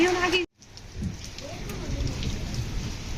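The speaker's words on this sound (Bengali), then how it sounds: "অনেক জোরে বৃষ্টি নামছে" Heavy rain pouring onto a resort pool and its surroundings, a dense steady hiss after a brief sharp cutoff, with a voice speaking at the start.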